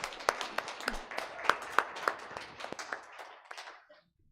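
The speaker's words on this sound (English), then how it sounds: "Seems like we should applaud." A small audience at a solstice carol celebration claps briefly. The scattered applause is fairly quiet and fades out after a few seconds.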